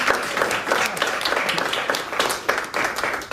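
Audience applause at a political meeting in Ghana, dense rapid clapping from a crowd, loud and sustained throughout with no speech.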